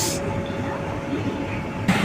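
An orange Alco diesel locomotive from Ernakulam loco shed hauls the Maveli Express night train in Kerala, heard as a steady, fairly loud rolling rumble that is brief and unbroken.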